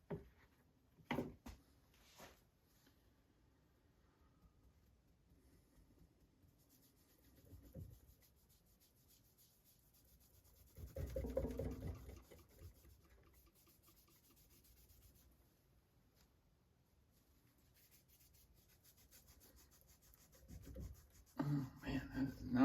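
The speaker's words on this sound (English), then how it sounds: "I wonder if I could use just a little bit of Blue Magic on the rust." Soft, scratchy rubbing of Blue Magic polish on a rusty knife blade, faint intermittent strokes with a louder scrubbing stretch in the middle and occasional handling knocks.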